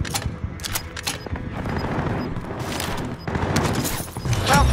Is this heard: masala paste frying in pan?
no